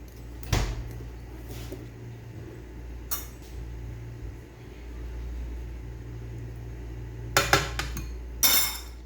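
Cream being mixed into Lab e Shireen dessert in a bowl, quiet background hum broken by a few sharp clinks of a spoon against the bowl, louder in a cluster near the end, no speech.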